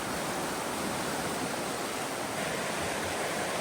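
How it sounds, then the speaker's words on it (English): The Kern River rushes past in a steady, loud, unbroken roar of water that fills the whole stretch. No voices are heard. "There's a lot of water moving."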